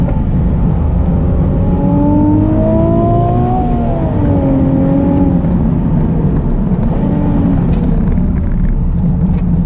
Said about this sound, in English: Rev it all the way out, nice.